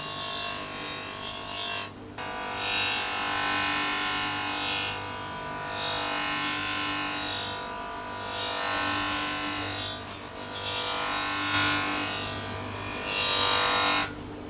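A buffing wheel whirs steadily against a vintage motorcycle chrome fuel tank, a continuous high whine that swells and dips as the workpiece is pressed and eased, with a brief interruption near the start.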